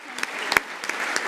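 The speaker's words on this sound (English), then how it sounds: "So a huge round of applause." An audience at a rugby awards ceremony claps steadily in a dense, continuous wash of applause, with a few sharper individual claps standing out close by.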